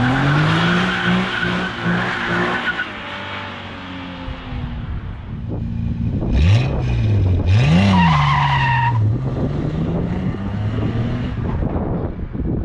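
A Nissan 370Z Heritage Edition engine roars and revs while tires squeal and skid loudly, rising and falling in pitch as it spins through burnouts.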